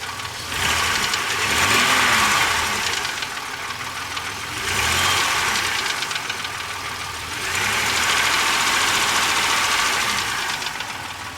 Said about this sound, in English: Most infamous engine by GM, but it's still running despite the clacking.